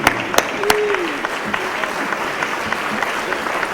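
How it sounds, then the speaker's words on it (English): A crowd at an awards gala applauds Creed Purnell, a dense steady wash of clapping with a few sharp louder claps near the start and a voice calling out briefly over it. "Stand up and give Creed a round of applause."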